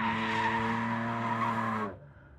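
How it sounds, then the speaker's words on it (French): A BMW race car, the number 46 machine, screams past on a circuit during qualifying, its high engine note holding loud and steady before cutting off sharply as it moves away. "Est-ce que c'est Julien Sabat que je vois sur la piste"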